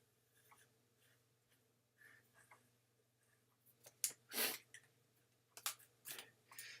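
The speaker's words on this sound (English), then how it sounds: "I'm going to sketch this triangle, a little red triangle, and I'll do big blue triangle." A pen sketches a triangle on paper, quiet scratchy strokes coming in short separate bursts, close and soft over a low steady hum.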